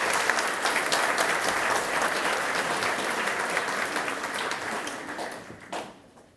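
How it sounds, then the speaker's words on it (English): Loud, dense applause from an audience for a school band after a performance, sustained clapping that fades out at the end. "So give the school band a huge big round of applause there."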